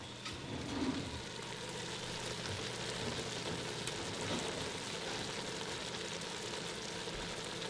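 Regular tomato sauce sizzling and spitting in a hot pan while making a lentil curry, a steady close hiss at low level with a few brief stirring sounds.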